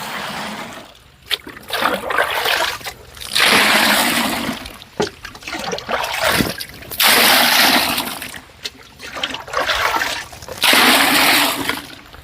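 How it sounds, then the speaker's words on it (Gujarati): Water splashes and pours into a bucket in several long bursts, loud and close, with brief pauses and small knocks between the pours. "તો આપણે પાણી નાખશું"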